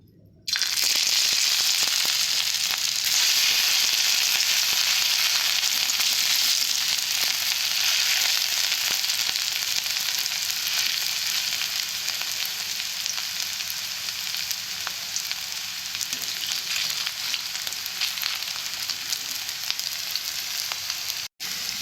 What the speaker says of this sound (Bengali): ভাজিয়াগুলো হয়ে গেছে এবার তুলে নেব এইরকমভাবে ভাজবে তোমরা